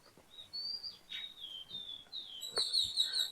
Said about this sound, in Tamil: ஃபுல்லாக அணிலும் குருவியும் அது கத்திர சத்தம் தான்